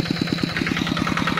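Hand tractor engine plowing a rice paddy, a steady rapid chugging putter with regular knocking pulses, close and continuous, with no talk over it.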